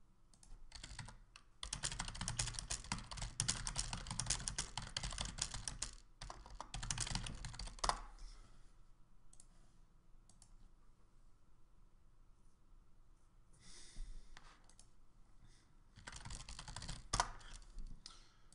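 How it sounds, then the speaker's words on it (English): Keys clattering on a computer keyboard in bursts of quick typing, separated by quieter pauses, close by. "Maybe the keyboard sounds a lot now."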